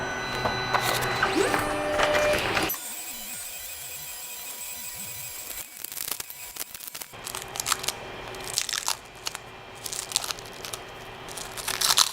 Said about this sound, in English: And then we're going to auto level the bed.